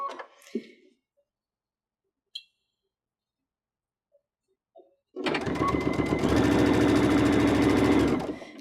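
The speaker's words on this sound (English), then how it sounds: "We're going to sew this down." A Baby Lock Unity sewing machine stitches down twisted cord trim, starting after a few small clicks and handling sounds, then running as a steady, fast mechanical hum with rapid needle rhythm, loud and close.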